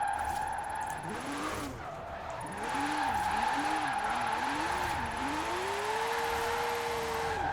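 A car drifting sideways in Forza Horizon 4, tires squealing in wavering bursts that rise and fall before one long sustained skid over a steady engine drone.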